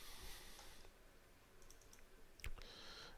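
Faint computer keyboard typing, a few soft light clicks in a short burst over quiet room hiss, no one speaking.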